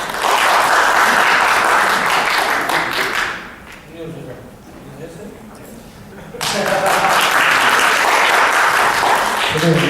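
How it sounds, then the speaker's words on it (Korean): Forum attendees break into loud, dense applause that drops to a quieter lull midway, with a voice briefly audible in the gap, before the clapping surges back to full strength. "저도 일어나서 박수를 더"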